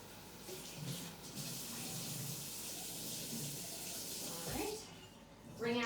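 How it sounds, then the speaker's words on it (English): Tap water runs from a faucet onto a Norwex Enviro cloth, a steady close gushing stream that shifts in tone as the cloth gets wet, with a brief louder splash at the end. "So I am going to get my Enviro cloth damp"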